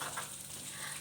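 Coarsely chopped crushed garlic sizzling in hot oil in a wok, a steady dense hiss of frying with no break throughout.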